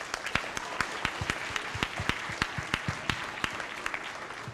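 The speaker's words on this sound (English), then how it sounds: "can we please have a round of applause for having this special gift brought to us" Audience applause at a school assembly on bullying, a moderate crowd clapping steadily with distinct individual claps, continuous for the full few seconds.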